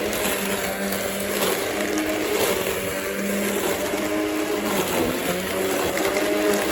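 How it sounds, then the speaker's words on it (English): An RB stick mower runs steadily while cutting through a crowded, overgrown yard, its continuous buzzing drone loud and close with no voices. "Hope you can hear me over the mower."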